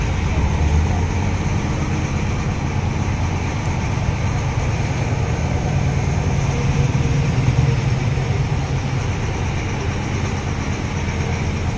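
Converted truck with an injection-pump diesel engine running on a road test through town, a steady low rumbling drone heard throughout from on board without clear changes in pace.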